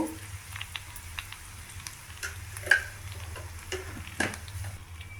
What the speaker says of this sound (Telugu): ఆనపకాయ ముక్కలు టమాటా ముక్కలు మగ్గుతున్నాయి బాగాను